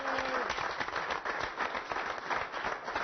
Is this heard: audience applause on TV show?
yes